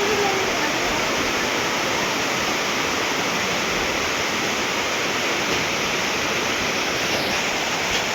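Steady rain falling at Mahachai, Thailand: a dense, continuous broadband hiss that holds even from start to end, with no distinct drops or pauses.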